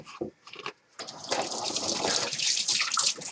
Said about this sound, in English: I'll rinse the knife in the water.